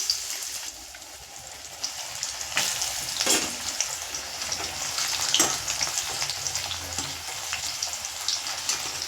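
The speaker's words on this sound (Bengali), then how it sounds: "বন্ধুরা রাঙা আলুর চিপস ভাজা হয়ে গেছে," Sweet potato chips deep-fry in hot oil with a steady, bubbling crackle, broken by short louder bursts and a few clinks as the chips are moved around.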